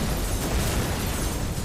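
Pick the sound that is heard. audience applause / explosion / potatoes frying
explosion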